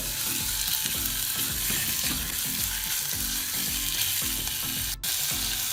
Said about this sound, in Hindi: चिकन को इसमें अच्छी तरह कुक करेंगे।